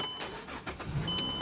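A car engine cranks and catches during a power steering fluid flush, a brief rumbling start with faint jangling, close and moderately loud, no talk over it.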